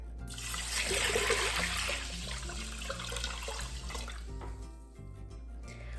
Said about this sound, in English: Add 8 cups of cold water.